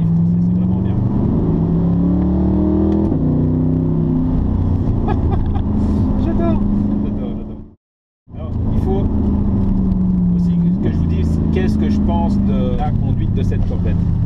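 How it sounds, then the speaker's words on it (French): Chevrolet Corvette C8 in sport mode revving hard as it accelerates, its engine note climbing and then dropping sharply through quick, forceful gear changes, with a brief full cut in sound midway before it resumes pulling strongly. "si on est en mode sport ou pire piste, à ce moment-là, les changements de rapport sont plus rapides, plus violents"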